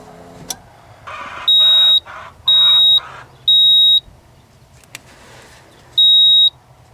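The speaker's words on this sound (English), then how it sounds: "This also has audio. It'll beep, but actually helps." Code scanner hooked to a 1987 Ford F150 with an inline-six emits four loud, steady electronic beeps, three in a quick row and then one more after a pause, each about half a second long, over a quiet background.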